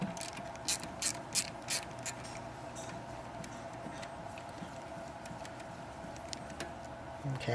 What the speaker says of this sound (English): Okay, we got that clamp broken loose.